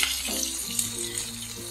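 Mixed vegetables, fenugreek seeds among them, fry in a pan for Bengali shukto, giving a close, steady sizzle with a few stirring scrapes and no talk.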